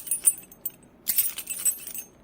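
A bunch of keys jangles in short, close metallic bursts: one brief rattle, then a longer bout of jingling after a pause. There is no talking.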